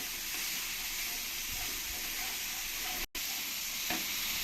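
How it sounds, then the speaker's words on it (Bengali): Onion frying with green chili paste for a drumstick and coconut milk dish gives a soft, steady sizzle and hiss with faint stirring, broken by one brief cut to silence midway. "দু চামচ কাঁচা লঙ্কা পেস্ট দিয়ে দেবো দিয়ে ভালো করে আমি পেঁয়াজের সঙ্গে কষিয়ে নেব"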